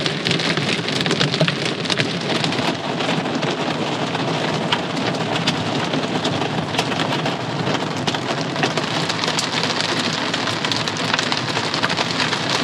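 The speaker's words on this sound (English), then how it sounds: "it is full on torrential rain and hail" Torrential rain and hail pound a camper in the Black Hills, a dense, unbroken roar of drumming on the roof with sharp scattered impacts, loud and close throughout.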